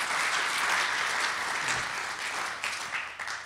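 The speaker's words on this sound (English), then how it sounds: "let's give them another nice round of applause" Audience applause for presenters after a cinematic storytelling talk, a sustained wash of clapping from a moderate-sized crowd, steady and somewhat distant, tapering slightly toward the end.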